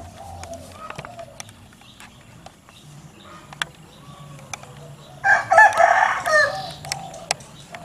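A rooster crows at a distance, a loud bright crow rising about five seconds in over low outdoor background noise, with a few faint clucks and thumps earlier.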